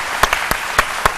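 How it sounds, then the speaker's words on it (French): A few sparse, separate hand claps ring out in a television studio for inventor Serge Djibré, five distinct sharp claps at an uneven pace over a steady background. "je pense que ça s'applaudit"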